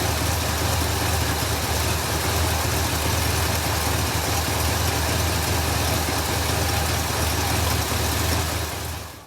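A 1966 Cadillac Eldorado engine idling while warming up, a loud steady rumble that holds evenly throughout and drops away at the very end.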